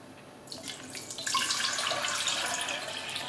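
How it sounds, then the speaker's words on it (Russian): Cold water runs from a tap and pours into a pot of beef for a thick meat soup, a steady splashing stream that starts after a brief pause and keeps up, close and alone. "Говядину заливаю водой."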